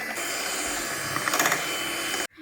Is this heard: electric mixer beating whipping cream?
yes